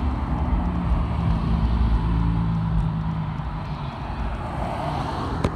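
A clean Mazda Miata runs down a drag strip, its engine a moderate, steady roar that rises and fades, heard from some distance with no talk.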